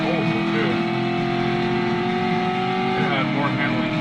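Car engine in the Driver video game, a steady droning whine with layered engine harmonics and a shifting pitch near the end, loud and continuous with game audio underneath.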